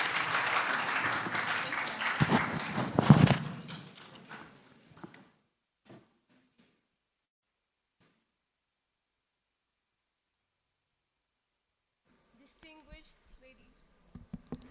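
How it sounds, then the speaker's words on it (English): Audience applause at a state event in Nigeria, loud steady clapping for a few seconds that fades out, then near silence with faint scattered noises and voices at the end. "give them a round of applause as they make their way back to their seats"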